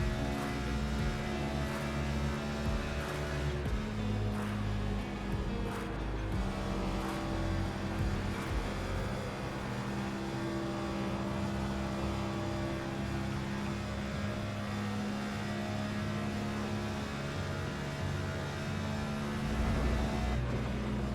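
A race car in a sim racing game taking a left turn at around 170 mph, a steady droning engine tone with shifting pitch and a constant hum underneath, fairly quiet and continuous with no talking.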